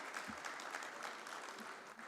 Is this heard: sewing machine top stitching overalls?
no